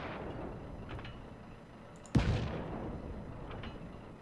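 A single heavy gunshot or cannon blast in the game Just Cause 3, a sudden loud boom that fades over a short rumbling tail, set against a continuous background rumble.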